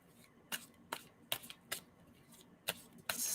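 Tarot cards are shuffled softly and quietly, with about seven separate riffling bursts spaced roughly evenly and a louder rustle at the end.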